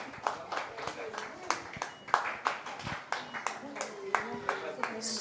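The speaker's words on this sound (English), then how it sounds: "Give her a big applause" Small audience at an autism awareness event clapping in an uneven rhythmic beat, distinct individual claps close by, with voices murmuring underneath.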